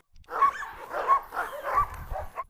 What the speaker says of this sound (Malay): Begitu seekor anjing dikeluarkan dari kandang, semuanya mulai menggonggong bersamaan.